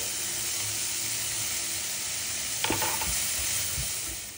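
Garlic sautéing in a pan with softened onions and salt, a steady hissing sizzle with a few brief stirring scrapes partway through.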